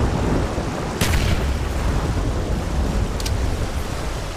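Grenade explosion in Call of Duty Nazi Zombies on a custom modded map, a loud rumbling blast that rolls into a sustained low boom with a couple of sharp crackles on top.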